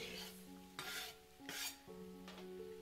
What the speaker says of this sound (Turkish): Ve sonrasında domatesleri ilave edip tuz ve karabiberi ben kavururken koyuyorum.